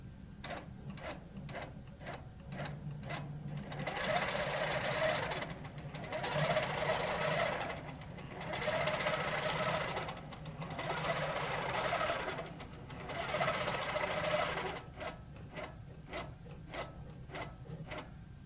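A computer-guided longarm quilting machine stitches a clamshell design, with a rapid rhythmic clatter that swells and fades in repeating cycles of a few seconds each, moderately loud and steady.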